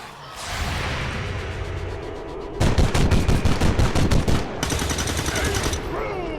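Sustained automatic gunfire from Space Marines in the video game XCOM 2, dense rapid rattling bursts that swell louder midway then continue slightly lighter, with faint speech underneath.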